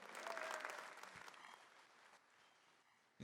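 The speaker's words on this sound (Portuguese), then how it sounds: "Uma salva de palmas, gente, olha só." Applause from a congregation during an evening prayer service with adoration in a Catholic setting, a dense patter of clapping that is loudest at the start and gradually fades, fairly distant and soft.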